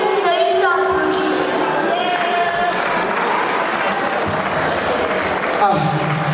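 An audience at a comedy show breaks into loud, sustained applause filling the room, with voices audible over the clapping.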